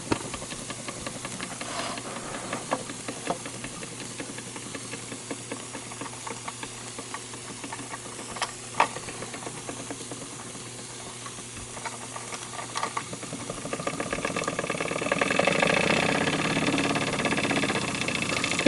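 A Wilesco D16 electrically heated live steam engine running with a steady mechanical chugging and hiss, growing louder and more hissy toward the end.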